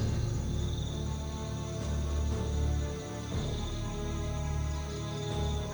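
Insects chirp steadily across rice fields in Purwakarta, a dense, continuous high buzzing bed with faint low rumble beneath, no voices.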